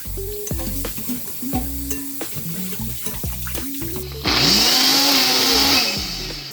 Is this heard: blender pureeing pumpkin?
yes